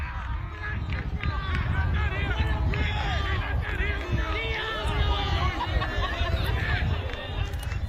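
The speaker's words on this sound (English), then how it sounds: "You can hear the crowd." Crowd at a high school varsity baseball game, a busy babble of cheering and chatter from the stands, fairly distant and continuous, with voices talking through it.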